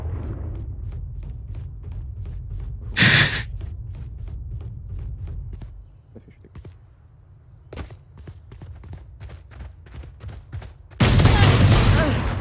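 Sheriff pistol shots ring out in the video game Valorant, with a sharp loud crack near the start and another near the end, light footsteps and clicks in between.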